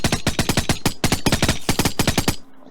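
Rapid automatic gunfire from a Flans Mod weapon in Minecraft, a loud, close, evenly spaced burst of shots in quick succession with a brief pause, ending abruptly into quiet.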